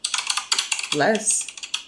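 A computer keyboard typing sound effect clatters in quick, loud, irregular key clicks at close range, briefly overlapped by a short burst of voice midway.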